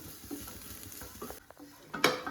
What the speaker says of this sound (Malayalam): നമ്മളിങ്ങനെ ഫുൾ ഫ്ലെയിമിൽ വെച്ചിട്ട് ഇളക്കി കൊടുക്കുമ്പോൾ തന്നെ അത് കറക്റ്റായിട്ട് വെന്ത് കിട്ടും